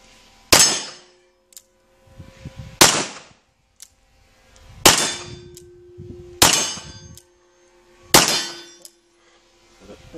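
A pistol fires at an outdoor shooting range, making five sharp, loud reports spaced a couple of seconds apart, each with a ringing metallic tail.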